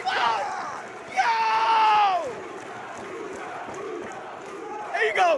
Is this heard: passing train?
no